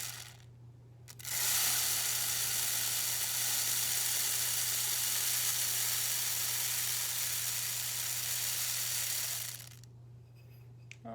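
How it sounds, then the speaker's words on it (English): Quinoa or rice pours into a homemade rainstick tube as a continuous, dense rushing hiss of falling grains lasting about eight seconds, with a short quiet before and after. "we are going to take our quinoa or rice, whatever you have available, and we are going to put it"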